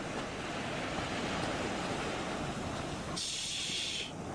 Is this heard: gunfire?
no